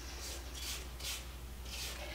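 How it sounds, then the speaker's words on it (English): A spatula scrapes down the sides of a mixing bowl of pumpkin cake batter, with soft repeated rubbing strokes over a steady low hum, fairly quiet and without talk. "Okay, now I'm going to scrape down my bowl,"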